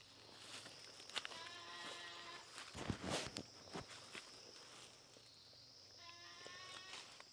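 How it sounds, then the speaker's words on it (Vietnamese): Goats bleat outdoors on a farm, several wavering cries from one animal calling for two others it cannot see, arriving in two bursts with footsteps and rustling around them, moderately near but fairly quiet. "Dê trên kia thì có vẻ như là nó không nhìn thấy hai con kia nó kêu ấy."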